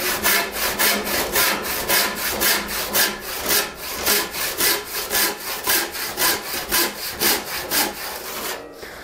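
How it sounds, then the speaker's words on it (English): A hand saw cuts through wood in steady, rhythmic back-and-forth strokes, close and loud, while making a drawing bow compass with hand tools. "I'm gonna cut all the way down, and that last inch, I'm gonna just break"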